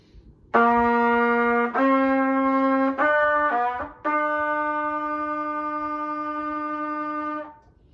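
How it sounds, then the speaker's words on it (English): A trumpet plays a few short notes, then holds one long, steady tone alone in a quiet room before stopping. "Now for the trumpet."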